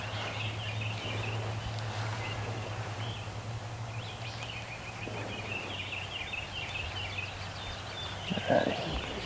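A wild turkey gobbler charging toward decoys during an Indiana spring hunt gobbles amid steady outdoor ambience and a low hum, with a louder burst near the end.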